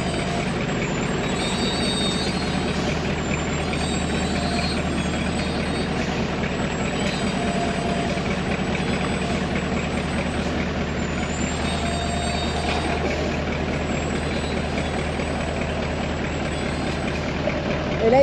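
Truck backing up on a narrow road, its engine a steady, low, rumbling idle that carries on for the whole stretch, with faint background noise layered over it.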